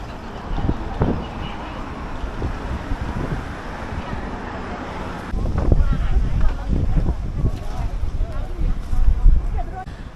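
Cold wind buffeting the microphone on the Bund waterfront in Shanghai at dusk, a steady broadband rush that grows stronger and gustier in the second half, with low thumps and distant city bustle mixed in.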